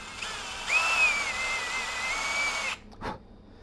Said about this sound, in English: So I'm going to get a 2mm drill bit, brad point drill bit.